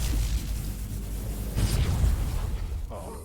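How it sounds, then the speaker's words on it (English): Explosions in the video game Shattered: Tale of the Forgotten King rumble continuously as a dense low boom, swelling louder midway and fading near the end. "So many explosions."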